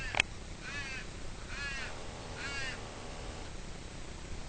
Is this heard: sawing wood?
no